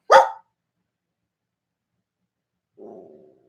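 A dog gives a sharp single bark up close, followed a few seconds later by a short, low, rumbling growl that trails off, with silence between and no talk.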